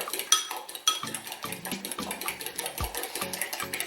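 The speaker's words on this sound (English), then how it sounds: "I can certainly get away with just a fork here" A fork beats eggs briskly in a bowl, producing a rapid run of light clinks and taps against the side, close and fairly quiet.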